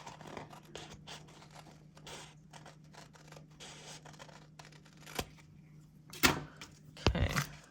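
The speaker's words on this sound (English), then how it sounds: "let's cut this tape off the end so that we know" Scissors snip through washi tape at the end of a paper spread, quiet rustling and handling sounds followed by a few sharp close cuts and scraping near the end.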